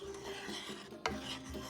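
A spoon stirs roasted beets in a pan with a faint, soft rasping scrape, and one sharper scrape briefly stands out near the end of the short stretch.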